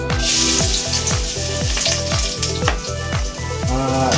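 Garlic sautéing in a pan for dynamite lumpia filling, a loud close sizzle with a steady, rhythmic clatter of repeated stirring or pan knocks running throughout, no voices.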